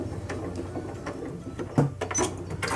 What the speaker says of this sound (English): Pivot around the last short edge, one more stitch across the end, and then back down to where we started.